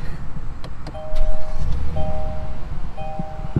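2021 Kia Telluride with a 3.8-liter V6 starting up: a brief electronic chime repeats over the loud rumble of the engine catching and settling into a steady idle.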